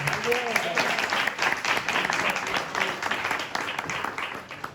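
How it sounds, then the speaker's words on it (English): Applause from a crowd at an office or conference gathering, a dense steady patter of clapping with voices and cheers mixed in, sustained throughout. "An applause."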